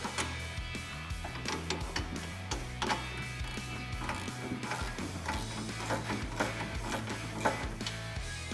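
A ratchet wrench works the top shock bolt loose on a Polaris Ranger 570 during a lift kit install, giving a steady run of close mechanical clicking and whirring with no talk.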